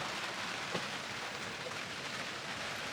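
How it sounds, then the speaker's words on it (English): Steady rain falls at a dry dock where a narrowboat is out of the water for stern repairs, a dense even hiss without breaks and no voices. "Rain's delaying play."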